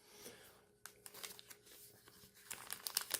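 A plastic wrapper on a pack of cookies crinkles and crackles in quiet, uneven bursts close by, growing busier toward the end.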